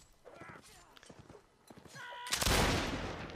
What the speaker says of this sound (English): More pistols going on.